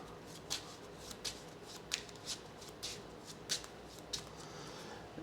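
Playing cards shuffled back into a deck during a Mage Knight board game, a quiet run of crisp riffling bursts and soft card slaps repeating about every half second, close up with no talking.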